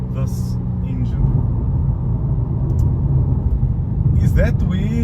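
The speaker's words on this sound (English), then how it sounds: "incredible performance here from this engine." Steady engine rumble from a BMW M2 on the move, loud and continuous with road and cabin noise, plus brief higher whines near the end.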